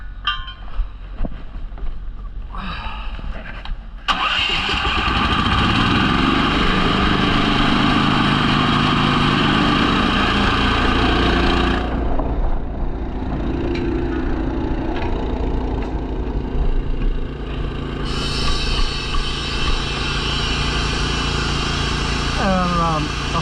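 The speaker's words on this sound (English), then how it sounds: "I want to go ahead and start the compressor now." An air compressor starts with a sudden jump in level and then runs with a steady, loud mechanical drone during a semi truck steer tire replacement, while people talk in the background.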